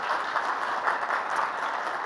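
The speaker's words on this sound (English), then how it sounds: "Please give Poppy a round of applause" At a publishing conference in Austin, Texas, an audience gives steady, dense applause for a volunteer coming to the stage, a loud continuous wash of many hands clapping throughout.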